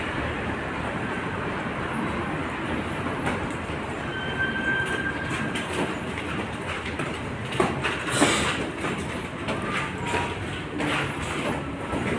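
A subway train rumbles through Tenjin underground station in Fukuoka, Japan, a steady loud roar with rattling clacks and faint squeals echoing in the enclosed platform, no talk.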